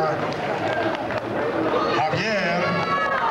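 Crowd at a 2001 charity boxing match between East LA Sheriff's and CHP officers cheers and applauds for a fighter, a dense, steady roar of clapping and shouting throughout, with some cheering voices standing out.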